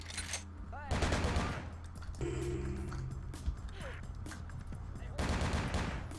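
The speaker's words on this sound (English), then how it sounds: "Yes, shoot through the wall." Gunfire in Vampire: The Masquerade – Bloodlines, with shots fired through a wall: loud bursts and rapid clusters of shots come and go across the clip over a dense background of game sound.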